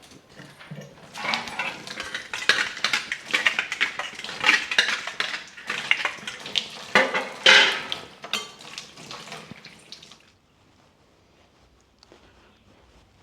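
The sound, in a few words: washing dishes, pots and pans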